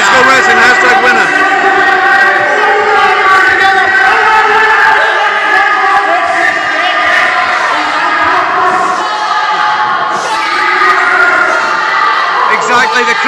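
A wrestling show crowd shouts and jeers at a wrestler in the ring, loud overlapping yells and chanting voices with whoops rising and falling throughout, close and sustained.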